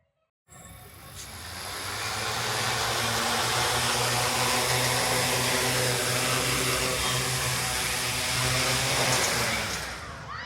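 Four 5010 750kv brushless motors on a 3D-printed DJI Inspire 1 drone, fed by a 3S LiPo battery, spin up from silence into a loud, steady whine and drone that holds, then eases slightly near the end.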